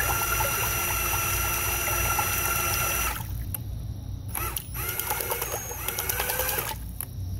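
Lily impeller spinning in water, lifting water, giving a steady whirring, churning liquid rush that shifts tone midway and continues with sloshing and splashing, loud and close.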